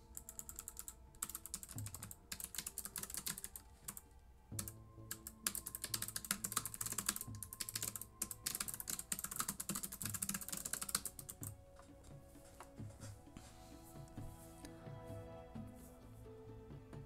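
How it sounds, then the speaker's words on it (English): Rapid, continuous clatter of fingers typing on a computer keyboard, close and alone, with dense keystrokes easing into a lighter, sparser pace toward the end. "But let me start typing."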